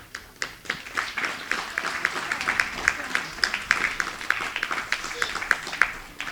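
An audience at a Sunday love feast and lecture claps steadily after a donation is announced, a dense run of many hands clapping with sharp individual claps standing out, moderately loud throughout.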